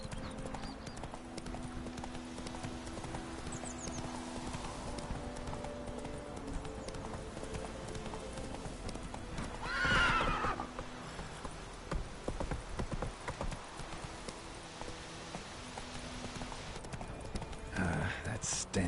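In The Witcher 3, a horse gallops with rapid, steady clip-clop hoofbeats close by, heard alongside game ambience, with a louder burst around the middle.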